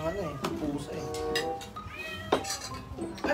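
A cat meows several times, nearby and moderately loud, in a home kitchen where fish is being cooked, with people talking over it throughout.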